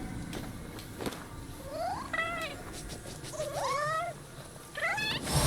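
A cat in the Nioh 2 video game meows several times in rising, wavering calls over a steady low game ambience, fairly close and clear, with no talking.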